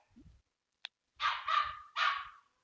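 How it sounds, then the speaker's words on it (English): A dog barks indoors in a short volley of three loud, close barks after a faint yip, with a quiet pause between. "he's gonna start barking like crazy"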